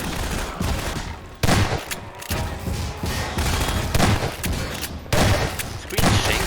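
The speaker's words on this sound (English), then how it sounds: "The screen's shaking a lot and there's so many explosion sound effects." Dense, loud bursts of gunfire and explosions from the video game Half-Life 2: Episode Two fill the whole stretch, with heavy booming impacts every second or so over constant rattling shots.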